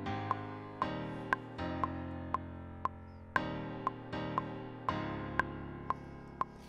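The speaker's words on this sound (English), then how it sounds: "I already created this little MIDI progression earlier. I quite like it. It's quite dark and mysterious," Dark, mysterious MIDI chord progression, played as slow sustained chords that change every second or so, with a soft, regular click ticking steadily through the quiet passage.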